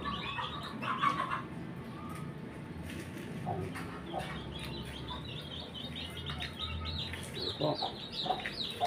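Brahma chickens clucking and calling in a yard, several birds overlapping in steady chatter, with occasional louder clucks and chirps and faint background noise.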